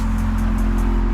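Car engine idling steadily just after its first start on a rare project car bought from a Copart salvage auction, a loud, close, continuous low rumble with no talk.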